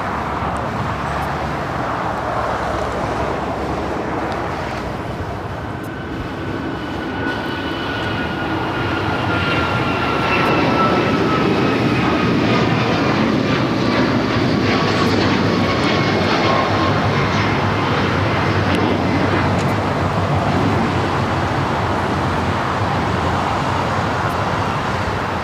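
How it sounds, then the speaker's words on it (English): An Alaska Airlines Boeing 737 MAX 9 rolls down runway 25 right at Los Angeles airport on takeoff, a loud, sustained engine roar with thin whining tones that rises and holds, with faint road traffic underneath. "Alaska 737 MAX 9 heading to Newark, flight 286, now rolling down at 25 right."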